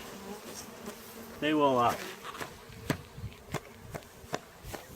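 Honeybees buzz around a hive in a steady low hum, with a louder buzzing pass up close and scattered soft taps and clicks.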